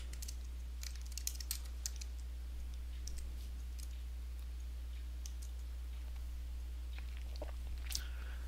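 Keys tapped on a computer keyboard while entering a MATLAB script name, a quiet run of light, irregular clicks over a steady low hum, with a few sharper strokes near the end.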